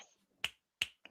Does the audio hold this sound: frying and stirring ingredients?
no